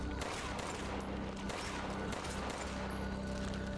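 Rapid automatic gunfire from a gun fitted with a high-capacity magazine in the video game Resident Evil Village, a dense continuous burst of shots filling the clip at steady loudness.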